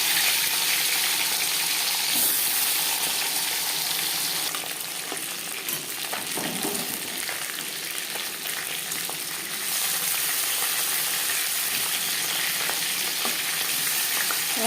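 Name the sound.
marinated tilapia fish frying in hot refined oil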